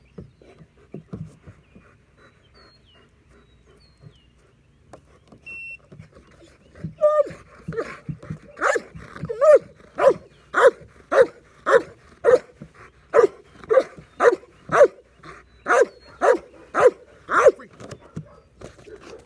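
A dog barks repeatedly during active bark training, a steady run of loud, evenly spaced barks starting partway in after quieter panting and shuffling.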